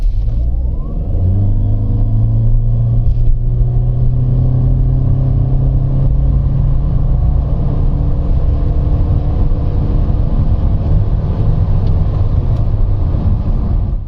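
Toyota Corolla Cross Hybrid accelerating hard from 0 to 100 km/h, a loud steady engine drone with rising tones and cabin rumble, continuous and close for about fourteen seconds with no talking.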